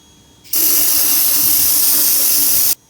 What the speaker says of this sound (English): I'm going to go ahead and use the brake cleaner to really clean it out in there